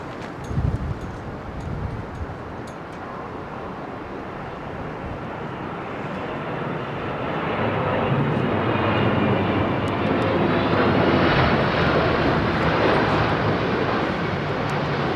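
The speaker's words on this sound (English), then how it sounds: "But this is a hybrid DHL 767." A DHL Boeing 767 cargo jet comes in to land at windy Heathrow, a broad engine roar swelling steadily as it nears, with gusting wind buffeting the microphone.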